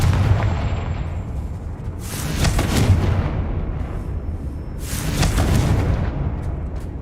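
Confringo fire spell from Hogwarts Legacy bursting in two loud, booming blasts a few seconds apart, each a heavy explosive whoosh over a constant low rumbling game ambience, with no voices.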